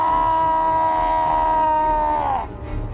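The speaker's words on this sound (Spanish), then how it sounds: "se oyó un grito de horror proveniente de algún lugar de entre la multitud" A sustained, loud scream of horror rising from a crowd as a radio drama effect, one long tonal cry that holds steady before bending downward and breaking off into murmuring crowd noise.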